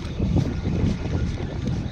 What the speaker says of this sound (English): Boat decided to drive by just now.